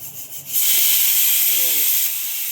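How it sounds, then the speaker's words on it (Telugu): Pressure cooker steam release while cooking moong dal: a loud, steady hiss bursts on after brief quiet and holds for about two seconds, then eases slightly, close and unbroken. "ఇంకో కోటి కూడా వచ్చింది త్రీ విజిల్స్ వచ్చాయి"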